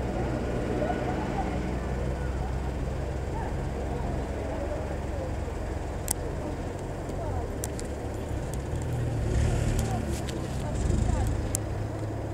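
The Airlander 10 airship aborts its landing at Cardington and climbs away, a steady low engine and propeller drone heard from a distance under wind noise, swelling slightly near the end.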